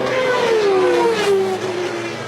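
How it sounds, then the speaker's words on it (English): Naturally aspirated 3.5-litre V10 race car engines at Le Mans in 1993, a loud high-pitched whine that sweeps downward in pitch as a car passes close by, dominating the scene. "And the whine there of the fabulous V10 engines"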